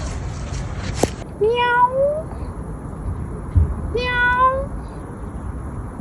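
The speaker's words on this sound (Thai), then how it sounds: "ตอนนี้ขาดแต่แมวมากิน ไปหาแมวกันเด้อ" A cat in a home garden gives two drawn-out, rising meows a few seconds apart, close and clear over low outdoor background noise.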